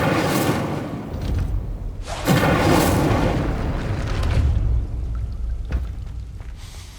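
A fire spell cast in Hogwarts Legacy bursts with a whooshing, crackling blast that swells and lingers as a rumbling roar, followed by a few sharper pops and sizzles fading out; no voices.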